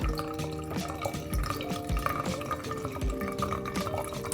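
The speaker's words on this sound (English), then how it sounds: "I would start by adding 120 milliliters of hot water to thin it out a bit." Hot water poured from a kettle into a vessel of concentrated coffee, a light, close trickle and splash that runs on and off in short pours over about four seconds, with faint clinks of glass or ceramic and no talking.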